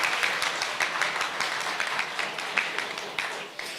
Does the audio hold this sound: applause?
yes